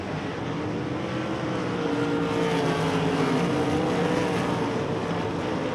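Race cars at Devils Bowl Speedway roar past in a continuous, dense engine drone that swells slightly in the middle, loud and close, with no talking over it.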